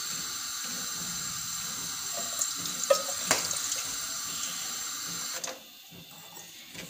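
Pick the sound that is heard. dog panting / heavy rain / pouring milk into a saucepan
pouring milk into a saucepan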